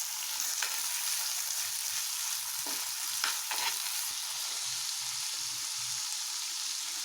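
Chilies, cloves, fresh coriander and tomato sizzle steadily in hot oil, a dense continuous frying hiss with a few soft stirring scrapes, close and fairly loud with no voices.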